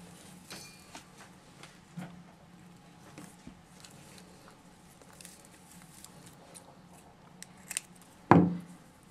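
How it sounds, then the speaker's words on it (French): A single sharp snip near the end: scissors cutting raffia yarn while a bucket hat is crocheted. Faint handling and rustling come before it in a quiet room, with no talk. "Et maintenant, je vais couper"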